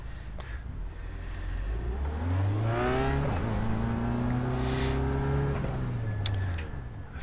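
Engine of a TCR touring race car in a video game at the Belle Isle circuit in Detroit, rising and falling through gear changes as the throttle is worked, loud and steady with a brief tire squeal-like edge.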